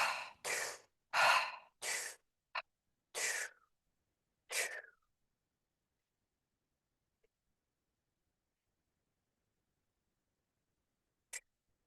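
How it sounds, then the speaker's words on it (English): A deep, rhythmic fiery breathing exercise: a run of about seven forceful, breathy inhale and exhale bursts in quick succession, close and clear, then silence with one faint breath near the end. "This is very, very hot, fiery breath."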